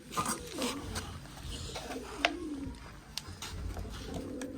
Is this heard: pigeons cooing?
yes